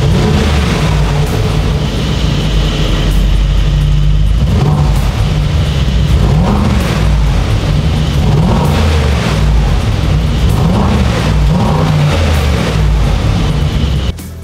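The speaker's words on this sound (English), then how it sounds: "now, let's hear the sound of this G800 Brabus" A Brabus G800 4x4 squared with a V8 engine and performance exhaust rumbles loudly and continuously, its deep revs rising and falling over about fourteen seconds with no talking.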